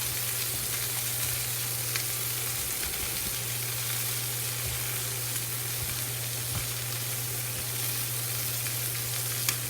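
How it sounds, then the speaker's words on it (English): Chicken skin sears in a pan with a steady, close sizzle and crackle, and a low hum runs underneath, likely from a range hood fan. "So as these sear, one of the things that's important to me is just this first side sear."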